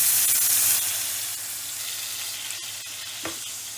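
Two skinned, halved tomatoes hit hot oil in a cooking pot with a loud sizzle that gradually settles into steady, softer frying, with a faint stir near the end.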